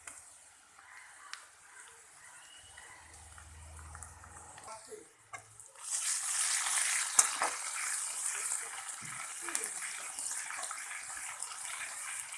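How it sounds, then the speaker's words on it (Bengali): Ginger-garlic paste hits a hot pan partway through, bursting into a steady bright sizzle that stays loud after a quieter stretch with faint handling noises, with no speech. "এবার দিয়ে দেবো আদা রসুনের পেস্ট"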